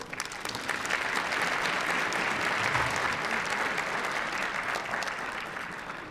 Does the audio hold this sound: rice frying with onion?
no